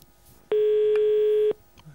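A single ringback tone from an outgoing telephone call, placed from a Danish radio studio. It is a steady, loud purr lasting about one second, alone with no talking.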